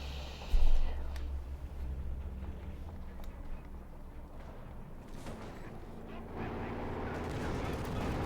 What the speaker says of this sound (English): Panzer IV shoots and misses